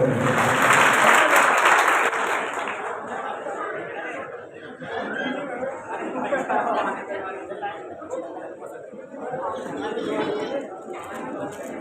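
Loud applause from a seated audience at a kavi sammelan poetry gathering for the Maharaja Agrasen Jayanti festival, greeting the next host; clapping peaks early, then thins into crowd chatter and scattered claps.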